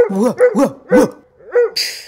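A few short, hoarse barks in quick succession, loud and close, with a pause before a final bark.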